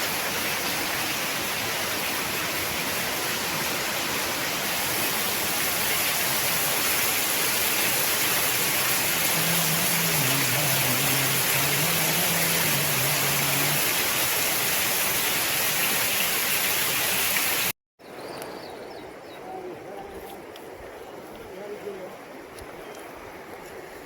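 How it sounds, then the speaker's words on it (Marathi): Heavy rain pours down beside a river during a fishing outing, a dense, loud, steady hiss that cuts off abruptly and resumes more softly, with faint voices in the background. "मित्रांनो पाऊस आला पुन्हा जोरात."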